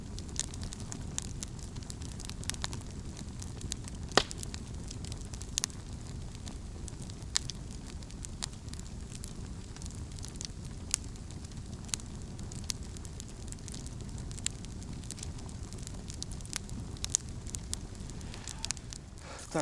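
A large campfire burns in a pine forest at a fishing camp, with a steady low roar and scattered sharp crackles and pops throughout, close and alone without voices.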